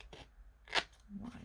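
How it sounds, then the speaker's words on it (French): Scissors snip once through paper at an angle to cut a bevel for a handmade candy box, a short crisp cut amid faint shuffling of paper, quiet and close. "Ici, voilà, on va couper en biseau."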